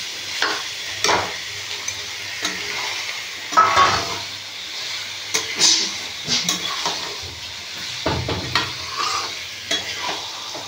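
Steamed Malabar spinach, pumpkin and chickpeas hit a hot pan for a sweet pumpkin ghonto, giving a continuous sizzle broken by repeated scraping stirs of a spoon against the pan, close and fairly loud, with no talking.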